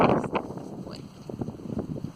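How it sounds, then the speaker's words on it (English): Gusty wind buffets the microphone in uneven bursts, a low rumbling roar rising and falling over a couple of seconds. "get some good gusts here"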